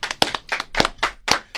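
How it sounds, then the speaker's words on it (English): An audience giving Dwight Howard a round of hand claps, a handful of sharp, close claps at an uneven rhythm, loud and alone without talk. "Let's give a live hand clap for Mr. Dwight Howard."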